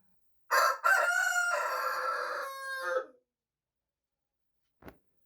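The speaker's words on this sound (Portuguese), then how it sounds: "Alerta de galo cantando, alerta de galo cantando." A rooster gives one long, loud cock-a-doodle-doo that rises and trails off, followed by silence and a brief soft knock near the end.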